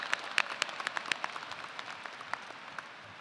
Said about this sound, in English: So let's give a round of applause to them as well.